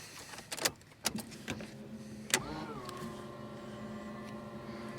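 Power-folding side mirrors on a Nissan Skyline R34 GT-R, a few clicks and knocks followed by a steady electric motor whine that holds evenly to the end, quiet and close inside the car.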